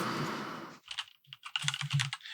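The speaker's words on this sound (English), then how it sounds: "We're hearing you typing." Rapid clicking of keys on a computer keyboard, close and clear, in irregular bursts after a brief stretch of broadband noise, with no voices.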